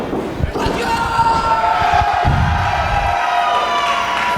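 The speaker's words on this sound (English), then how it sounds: "this crowd is wild for Nate" A wild pro wrestling crowd roars and cheers continuously around the ring with thuds and shouts mixed in, loud and dense, while a commentator talks over it.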